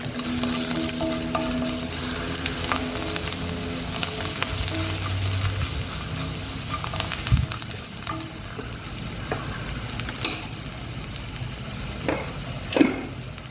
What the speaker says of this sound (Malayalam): ഇളക്കുക